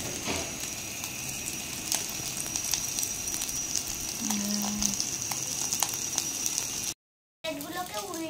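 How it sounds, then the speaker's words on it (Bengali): Bhetki fish cutlets fry in hot oil, giving a steady close sizzle with scattered crackles, broken by a brief silent gap near the end. "এবার কাটলেটগুলো ভাজা হোক।"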